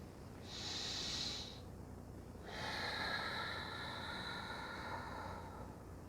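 Two slow breaths during a home yoga stretch, a long airy exhale then a long inhale, close and soft with a brief pause between them, no talking.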